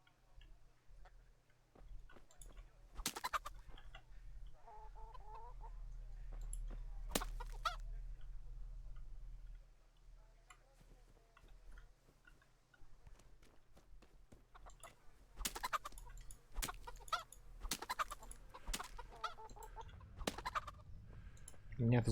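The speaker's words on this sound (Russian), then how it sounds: "О, 2 куриц одним ударом." Chickens clucking and squawking while being struck in a video game, with sharp hit clicks and bursts of flapping at intervals over a low steady game hum.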